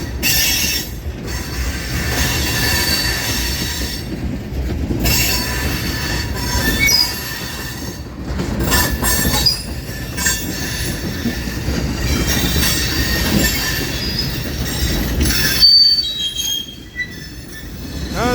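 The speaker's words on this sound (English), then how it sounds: "I'll pan back to the locomotive" An FEC freight train rolls across a bridge in St. Augustine, Florida, its wheels squealing loudly and continuously against the rails with steady rumbling and occasional clatter throughout.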